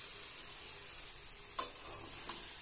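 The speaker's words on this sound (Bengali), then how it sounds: "এবারে এর মধ্যে সেদ্ধ করে রাখা গাঁঠি কচুগুলো দিয়ে দেব।" Spice masala frying in a pan as boiled taro goes in, a steady soft sizzle with a couple of sharper scrapes or drops, close and moderately quiet, no talking.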